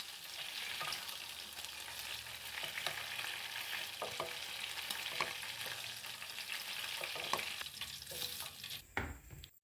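Chicken pieces fry in hot oil until golden, with a continuous crackling sizzle and scattered pops and spatters, then a sharp clatter and a drop-off at the very end.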